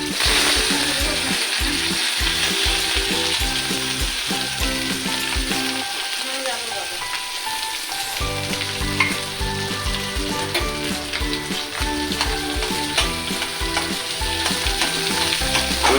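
Boiled mashed potato fries in hot oil with whole coriander seeds for samosa filling, a constant close sizzle broken by rhythmic scraping and rattling of a spatula stirring in the pan.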